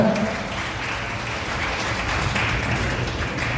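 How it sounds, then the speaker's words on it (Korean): Wedding guests at a wedding hall applaud: a steady wash of many hands clapping together across a few seconds, fairly distant, with a murmur of the room beneath. "박수로 축하해 주시면 감사하겠습니다."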